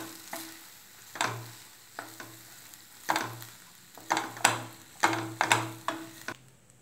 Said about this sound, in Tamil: சாதத்தை ஆட் பண்ணி நல்லா மிக்ஸ் பண்ணிக்கலாம்.